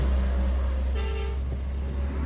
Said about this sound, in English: it's rather unusual to have traffic on roads like these